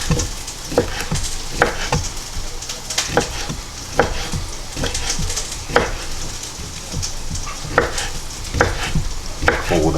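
Vegetables fry in oil in a pan with a steady close sizzle, punctuated by regular scraping and tapping from stirring roughly every half second, and no talk.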